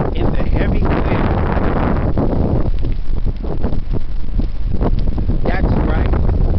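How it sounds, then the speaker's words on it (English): Heavy wind roars and buffets the microphone nonstop while someone runs along the Spartan trail, a loud, rough rush that swells and dips across the whole stretch. "Running through the Spartan trail in the heavy wind."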